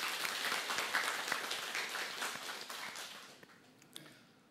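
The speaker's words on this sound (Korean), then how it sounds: "하나님께 영광의 박수 올려드리겠습니다" Congregational applause fills a church, dense and steady clapping from many hands that gradually thins and fades toward the end, with a few scattered late claps.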